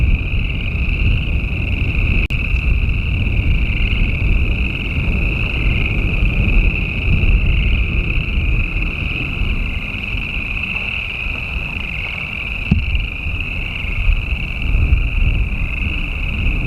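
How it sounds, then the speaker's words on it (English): A loud, dense chorus of frogs croaking in spring along Magnolia Road in rural Colorado forms a continuous high trilling drone, heard from a distance over low rumbling wind, with no talking. "the chorus that you hear out there are frogs"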